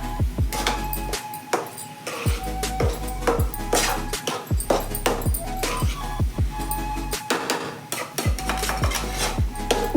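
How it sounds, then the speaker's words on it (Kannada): A spatula scrapes and clinks steadily against a pan while an egg and drumstick leaf fry is stirred over a high flame, in quick uneven strokes with a sizzle and a low hum underneath. "ಹೈ ಫ್ಲೇಮ್ ಇಟ್ಕೊಂಡು ಚೆನ್ನಾಗಿ ಈ ರೀತಿ ಮಿಕ್ಸ್ ಮಾಡಿಕೊಂಡ್ರೆ ಬೇಗ ಆಗಿಬಿಡುತ್ತೆ"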